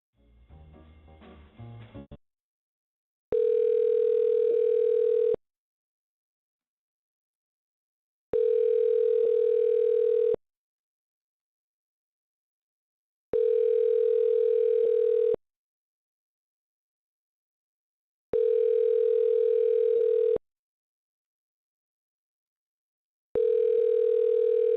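Repeating telephone line tone during call connection: a loud steady beep about two seconds long, sounding every five seconds with silence between, after a brief muffled burst at the start.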